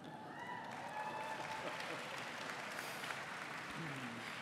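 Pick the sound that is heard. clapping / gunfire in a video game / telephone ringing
clapping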